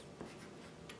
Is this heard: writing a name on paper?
yes